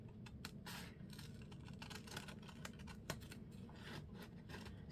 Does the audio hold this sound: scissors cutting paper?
yes